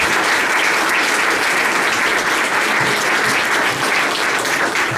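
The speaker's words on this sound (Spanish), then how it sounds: "Se merecen todos un fuerte aplauso," A large audience claps steadily and densely throughout, a full, loud wash of applause with no talk, following a speaker's closing thanks at a human rights talk.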